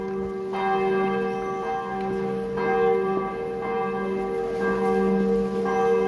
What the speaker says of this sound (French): Vous voyez, les cloches se mettent à sonner à ce moment-là.